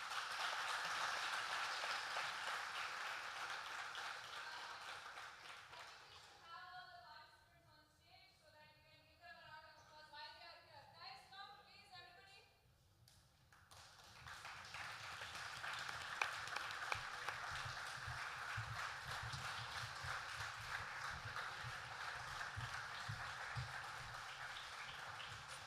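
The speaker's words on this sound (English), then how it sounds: "Please give them a huge round of applause" Audience applause fills a school hall at a Grade-12 performance poetry event, with sustained clapping that gives way midway to a brief stretch of voices before the crowd claps again.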